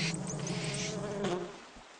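Flies and mosquitoes buzzing, a close, continuous insect drone with wavering high-pitched whines that fade toward the end, with no speech.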